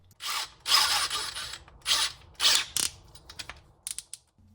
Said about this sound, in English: I do like that click lock mechanism